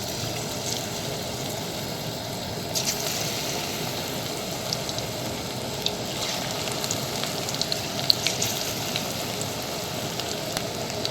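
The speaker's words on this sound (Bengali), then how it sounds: "তো তেল গরম আছে, এবার আমি পেঁয়াজ এগুলো ভেজে নেবো।" Onion fritters, peyaji, deep fry in hot oil with a continuous soft crackle and bubbling, fairly faint and even throughout, occasional small pops standing out.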